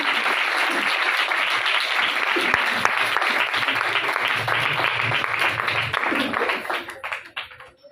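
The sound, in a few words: applause from church congregation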